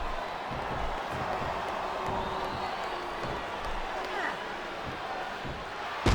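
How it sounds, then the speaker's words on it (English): Steady roar of a video game wrestling arena crowd in WWE SmackDown vs. Raw 2007 during an elimination tag match, a continuous dense wash of cheering at even loudness throughout. "I love hearing the crowd come alive"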